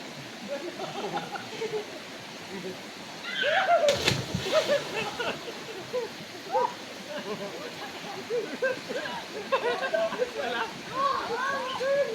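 A person jumps into a flood-swollen river, making one loud splash midway, with rushing water throughout and several people talking and shouting around it.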